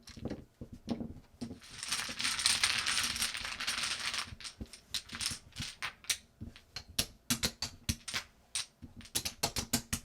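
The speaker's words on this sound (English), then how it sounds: "shuffle them and put them in stacks of 2" Pai gow tiles are shuffled and stacked on a table: a few seconds of continuous clattering shuffle, then many sharp, irregular clicks and clacks as the tiles are set into stacks of two, close and crisp.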